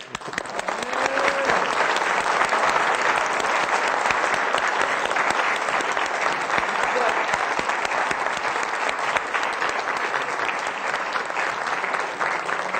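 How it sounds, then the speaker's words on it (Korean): A church congregation gives a long, loud round of sustained applause at a worship gathering, dense and steady throughout without letting up. "제가 여러분들에게 뜨거운 박수를 보냅니다"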